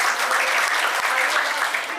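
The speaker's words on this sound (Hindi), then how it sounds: "एक बार जोरदार तालियां दें" A theatre audience at a drama performance claps loudly, a dense, steady burst of applause lasting a couple of seconds.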